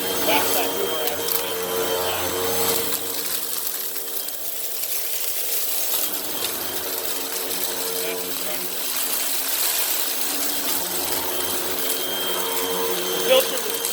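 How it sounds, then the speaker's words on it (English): A Hoover WindTunnel 2 upright vacuum cleaner runs steadily and loudly at close range with its brush agitating a very dirty floor, a constant motor drone lasting throughout, with people talking over it. "That's that Hoover agitation."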